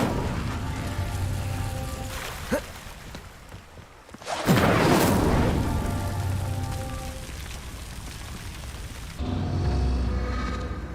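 A fiery spell burst from Hogwarts Legacy, surging loud and crackling for a few seconds before settling into a rain-like hiss over ambient game sound.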